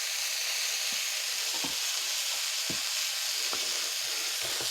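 A keto wrap crisps in an electric pan on medium-high heat, giving a continuous bright sizzle with scattered small pops and crackles, close and steady with no talking.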